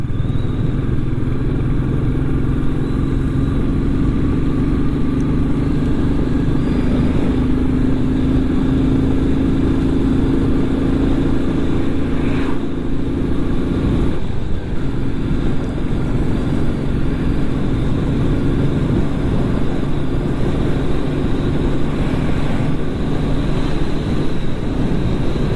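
A Royal Enfield Meteor 350 motorcycle rides toward a harbour town with a steady, loud engine drone and heavy wind rumble that last throughout, and its pitch shifts briefly mid-ride.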